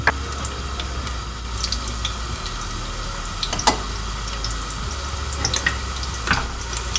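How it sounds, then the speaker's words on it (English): Chopped onion fries in hot vegetable oil for Nigerian yam porridge, a steady loud sizzle with scattered pops and a few sharp clinks, no voices. "I will just add some quantity of vegetable oil. Immediately, I will now be putting my chopped onion"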